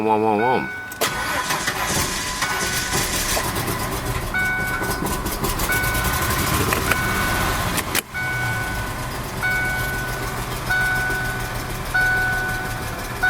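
A 1993 Ford Thunderbird SC supercharged V6 with 48,000 miles and a head gasket issue, unstarted for two months, cranks briefly and catches, then settles into a loud, steady idle close by, with a voice speaking over it.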